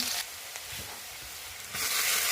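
Chopped onion, whole garlic and whole cumin frying in a pan for a duck curry, with a hissing sizzle that drops lower in the middle and then swells loud again.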